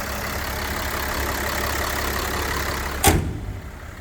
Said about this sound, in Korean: 엔진 소리가 묵직하죠.